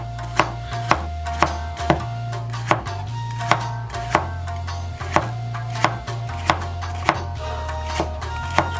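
A Chinese cleaver chops food on a board in a steady, even rhythm of sharp, close knocks, about one stroke per second, with no talking.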